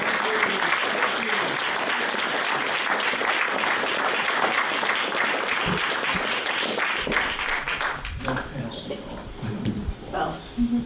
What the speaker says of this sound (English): we're going to give you a big round of applause first.